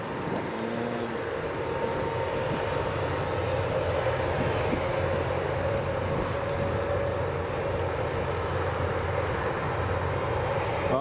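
A Virgin airliner arrives at Edinburgh Airport, a steady mid-level jet engine rumble with a faint tonal hum, heard from some distance without talk.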